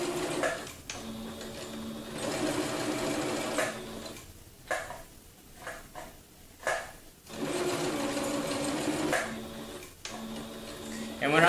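A sewing machine stitches nylon lanyard in bursts of steady, rapid mechanical ticking, stopping and starting between runs with brief quieter gaps, close and clear.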